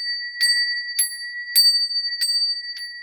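A small bell rung for a home cleansing gives five clear, bright strikes at roughly even intervals, each ringing briefly before the next, close and alone with no voices.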